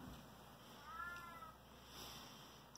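A cat gives a single short meow at a homestead, faint and somewhat distant, heard over a steady background hum.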